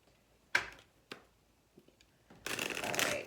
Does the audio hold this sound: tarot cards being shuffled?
yes